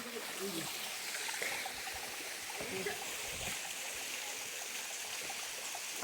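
Giridhara waterfall in the Jharkhand hills, reduced to a thin trickle, gives a steady close wash of running water with some gurgling and splashes, and faint voices and movement come through underneath.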